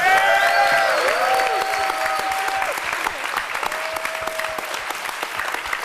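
An audience applauds steadily at a hacker conference closing ceremony, the clapping dense and sustained, while a presenter speaks over it.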